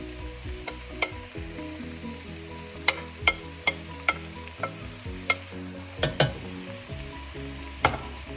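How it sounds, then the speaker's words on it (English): About 500 grams of browned pork mince sizzles steadily in a hot pan as a utensil stirs it, with sharp scraping clicks and taps against the pan at irregular intervals; no one speaks. "So there's about 500 grams of pork mince there. I'm going to add that in now."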